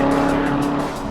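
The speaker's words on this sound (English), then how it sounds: "That sound represents everything that's right with the Corvette Z06." A 2015 Chevrolet Corvette Z06 with a supercharged 6.2-liter V8 roars loudly and steadily under hard acceleration, a dense, continuous engine snarl filling the short burst.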